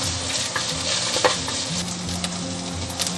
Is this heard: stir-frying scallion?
yes